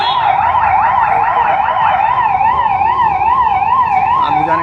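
Police and fire brigade sirens wail loudly and continuously at a shop fire beside a building, their rising and falling tones overlapping near the camera over steady street rumble.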